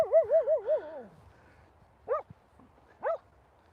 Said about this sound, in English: Harris is barking at another dog walker over there.